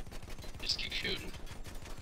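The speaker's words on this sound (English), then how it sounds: "Just keep shooting." Rapid repeated gunfire in a video game fight against a dreadnought, with dense rhythmic shots throughout and a brief burst of a voice partway through.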